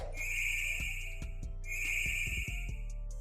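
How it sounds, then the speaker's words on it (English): Blipbug, a bug-type Pokémon in Pokémon Go, gives two short, bright whistling chirps, each followed by a quick patter of soft clicks and taps. "I think that was the sound of our new Pokemon Go debut, Blipbug."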